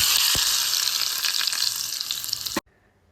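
Loud, dense sizzling of hot oil tempering for a chutney crackles steadily for a few seconds, then cuts off abruptly into near silence.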